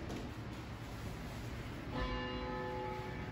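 A 1,200 pound bell at a historical society site rings out once with a clear metallic strike, its tone sustaining and slowly fading, moderately distant in the room, with no voices.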